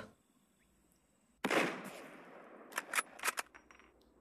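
A sniper rifle in the mobile game Lone Wolf fires one sharp, loud shot with a decaying tail, followed by several quicker cracks and clicks, in an otherwise quiet scene.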